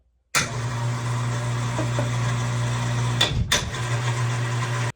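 A loud, steady drone with a low hum from a homemade ceiling lift motor runs continuously, briefly dipping near the end before resuming at the same level.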